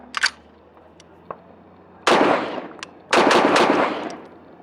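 Rifle shots fired through a Huxwrx Flow 5.56 Ti suppressor, two heavy muffled blasts about a second apart with long rushing decays, preceded by faint clicks and handling noise.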